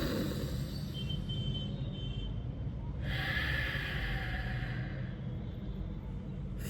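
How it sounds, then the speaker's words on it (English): A close, slow, deep breath from the belly is drawn in over a steady background hum, with a brief airy rise partway through. "like a really deep breath from your belly"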